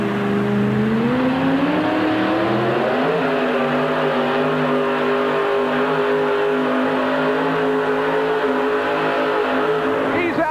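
A monster truck engine at a 1989 USHRA event in Hartford roars loudly and steadily, pitch rising as it revs then holding a sustained drone, close and dominant throughout.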